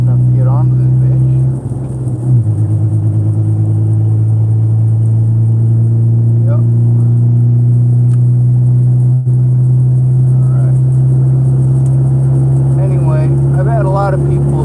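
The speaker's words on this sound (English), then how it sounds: "Hopefully I can accelerate fast enough to get onto this bitch." Car engine drones loud and steady as the vehicle pulls onto a road, a constant low rumble throughout with speech over it.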